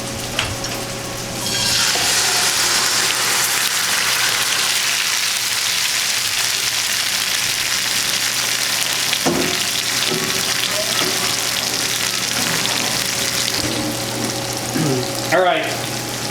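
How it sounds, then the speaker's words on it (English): Mashed beans fry in a generous pool of oil, giving a steady, loud sizzle that carries on almost unbroken with faint clinks of a utensil near the end. "So you look, I'm putting a lot of oil. The point is to fry them."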